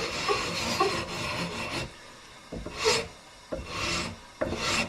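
Hand sanding of guitar frets with 220 grit sandpaper: rough back-and-forth scraping strokes, close and fairly loud, in uneven bursts with short pauses between them.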